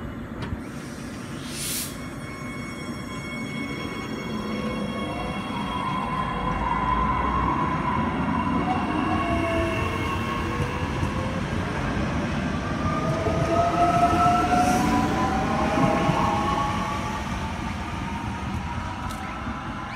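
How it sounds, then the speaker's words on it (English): Queensland Rail electric train IMU121 pulls away from the single working platform at Clayfield station on the Doomben line. Its motors whine and rise in pitch over a steady rumble and hiss as it departs, with no voices. "Departing the platform, we have IMU121, departing for a service"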